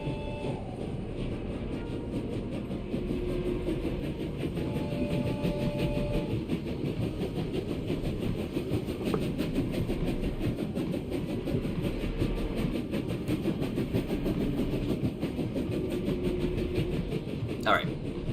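Rumbling train from the video game Expedition 33 rolls steadily for the whole stretch, a continuous low, broad drone with faint rhythmic rail clatter, moderately loud and unbroken, with a brief sharp click near the end.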